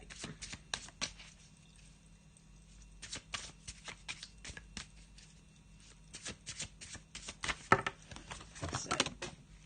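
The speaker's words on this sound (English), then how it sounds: "So just having a shuffle." Tarot cards are shuffled by hand in quick, irregular bursts of crisp riffling and slapping, close and fairly quiet, with short pauses between runs and no talk.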